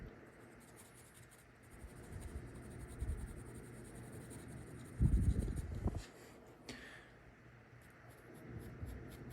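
Graphite from a mechanical pencil scratches softly across paper while shading a portrait drawing, a steady quiet rasp with a louder burst of strokes midway.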